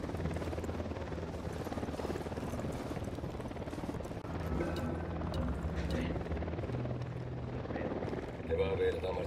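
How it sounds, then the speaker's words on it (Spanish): A helicopter in Ghost Recon Wildlands thumps with a steady rotor beat throughout, loud and continuous over the in-game soundscape. "Ojo, un helicóptero de la unidad."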